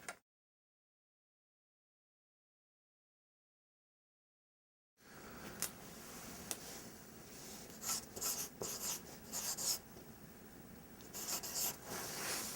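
Pen or pencil scratches across a workbook page as answers are written, faint close scribbling strokes after several seconds of silence.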